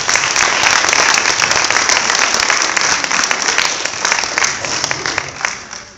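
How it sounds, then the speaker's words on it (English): A school after-prom audience at a stage hypnosis show gives steady applause for volunteers. The dense clapping lasts six seconds and fades slightly at the end, heard fairly close. "Give them a big round for coming up here"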